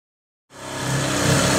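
A reciprocating saw cutting through a fiberglass shower kicks in after a brief silence, then runs as a loud, steady, harsh roar to the end.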